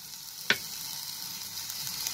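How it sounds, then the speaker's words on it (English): Curry leaves dry roasting in a pan give off a faint, steady crackling hiss, broken by one sharp click near the start. "So just dry roast this curry patta leaves so that it turns little crispy."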